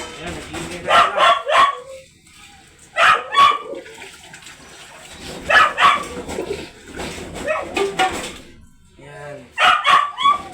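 Several dogs at a home feeding time bark in repeated loud bursts close by, with yips between and running water in the background; a person talks briefly between the barking.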